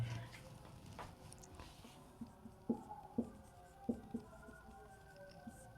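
Pen writing on paper during a statistics lesson, a series of soft scratchy strokes and light taps at close range, quiet and intermittent, with brief faint voice at the start.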